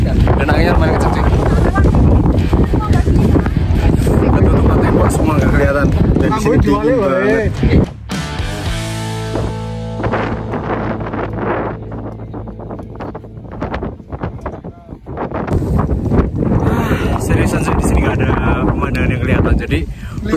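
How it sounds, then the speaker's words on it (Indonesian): Strong wind roars across a fog-covered mountain summit, a steady rushing buffet on the microphone that eases briefly in the middle, while a person talks over it for most of the time. "Dan anginnya lumayan kenceng cuy."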